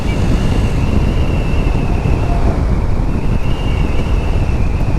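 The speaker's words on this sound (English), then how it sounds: "All you hear is the wind." Steady, loud wind roar buffets the microphone while riding a Kawasaki Z400 motorcycle fitted with a slip-on exhaust in fourth gear, the engine almost inaudible beneath the continuous rushing noise.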